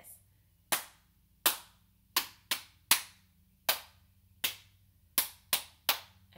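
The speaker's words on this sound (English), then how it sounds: "It's going to be all claps like this." Hand claps keep a steady rhythm for the BINGO children's song, about nine sharp, close claps with a short pause between some of them. No one sings or speaks over them.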